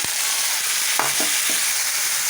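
Onion, turmeric, coriander powder and tomatoes fry in hot oil in a home kitchen for a Marathi vegetable meal, giving a steady close sizzle with a few soft stirring knocks.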